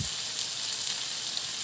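Barbecue chicken fillet sizzles steadily in a pan, a close, continuous hiss of frying with no other sounds.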